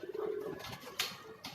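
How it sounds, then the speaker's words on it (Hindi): A surkh pigeon gives a soft, low coo at close range on a Karachi rooftop. The brief, quiet call is followed by a couple of faint sharp noises. "ये देखें जनाब, ये सुर्खे कबूतर है"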